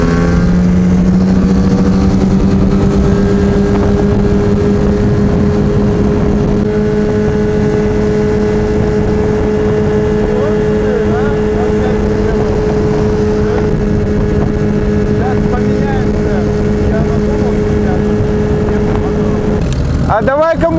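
Two 9.8 hp outboard motors, a Tohatsu and a Stels, run hard side by side on open water in a race, a steady loud engine drone with a rising pitch early on, holding throughout before dropping away at the end.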